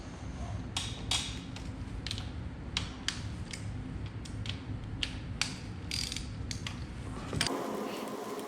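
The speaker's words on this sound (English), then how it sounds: "with a T50 Torx, we're now going to remove all three of these." Torx T50 driver with ratchet backing out bolts on a BMW R1200RT motorcycle, a series of brief clicking ratchet and metal tool clinks over a steady low hum in a garage, close by with no talking.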